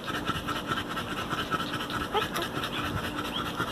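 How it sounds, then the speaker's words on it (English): Bully-breed puppies pant in quick, soft, rhythmic breaths close by, a light continuous huffing against a faint background. "And there's these beautiful puppies."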